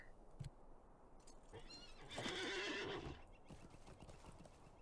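A horse whinnies loudly for about a second in the video game The Lord of the Rings Online, over steady clip-clop of hooves and a low background hum, with no one speaking.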